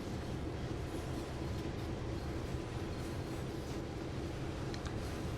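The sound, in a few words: train running in video game Train Sim World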